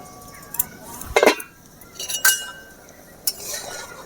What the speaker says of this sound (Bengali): এবার আমি ঢাকাটা খুলে নেব